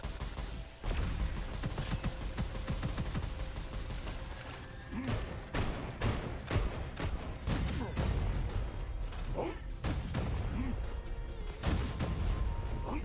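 Rocket launcher blasts and other explosive gunfire boom repeatedly through the shooter game Gunfire Reborn, dense and loud under excited talk.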